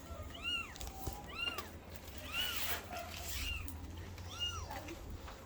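A mother cat with newborn kittens gives a series of repeated meows, about five calls spaced roughly a second apart, close and clear over steady background noise.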